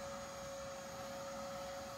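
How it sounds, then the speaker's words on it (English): A vacuum cleaner being used to clean a car drones faintly and steadily with a thin whine, heard from a distance with no talking. "He's using my vacuum"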